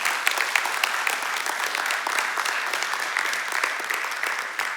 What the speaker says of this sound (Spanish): Dele palmas a Jesús por ese testimonio